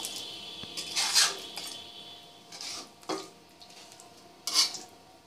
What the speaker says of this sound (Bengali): দিয়ে সামান্য একটু নেড়ে দিব